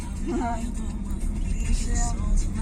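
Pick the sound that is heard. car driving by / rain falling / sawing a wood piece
car driving by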